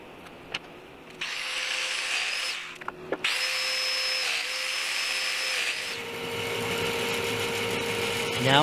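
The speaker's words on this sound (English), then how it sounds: "Now I'm starting to cut for the center board on the bottom, and this is the tenon that I'm cutting out." A power tool whines loudly while cutting a tenon on the bottom center board of a farmhouse table, its pitch dipping and rising through several sustained passes with brief pauses between them.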